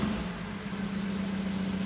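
A car engine, freshly rebuilt with new intake and exhaust after manifold gasket work, idles quietly with a steady low hum and no change in speed.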